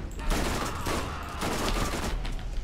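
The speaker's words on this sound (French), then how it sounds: "Bon, la mitrailleuse elle est cheatée" Machine gun fire from the video game Borderlands: dense, rapid bursts of shots roll on continuously and loudly throughout, with no pauses.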